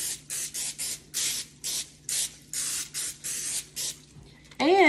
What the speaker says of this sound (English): I just spray the bottom of the cookie sheet